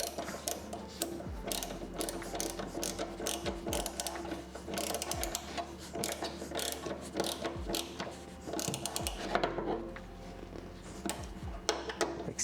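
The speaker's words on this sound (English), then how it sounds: "And then we can just go on and bolt those." A hand ratchet tightens the fittings on a car's oil cooler lines, its pawl clicking in long steady runs close by with brief pauses and a low background hum.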